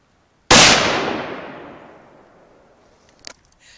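A single sharp gunshot from a newly acquired gun cracks loudly, then a long decaying echo rolls out for several seconds, followed by a couple of faint metallic clicks near the end.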